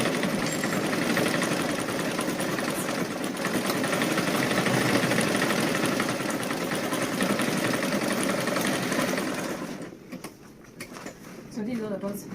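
A sewing machine stitches fabric for an iro and buba outfit, humming steadily with a fast mechanical rattle for about ten seconds before stopping briefly and restarting, with a voice speaking over it.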